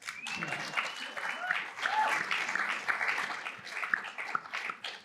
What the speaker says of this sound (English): you should applaud that